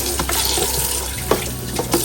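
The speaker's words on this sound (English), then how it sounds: "fill it up with water" Tap water runs into a clean plastic tub, a steady close splashing rush with small gurgles and sloshes as the tub fills, heard alone without talk.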